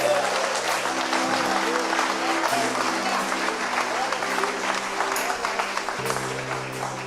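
Church congregation applauding during a Portuguese-language sermon, a dense wash of clapping joined by a low sustained musical drone and voices underneath.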